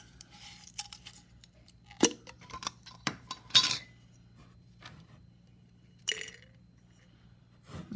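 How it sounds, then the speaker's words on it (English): Sugar cubes drop into a jar, producing a scattered series of sharp, close clinks and rattles of varying loudness against a quiet background, with a louder cluster near the middle and a last pair of taps toward the end. "we're going to put them in our jar"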